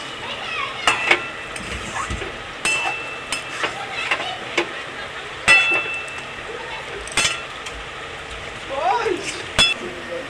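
A spatula stirs pumpkin and potato curry with hilsa fish head in a pan, making light scraping and scattered sharp clinks against the metal over a soft, steady background hiss.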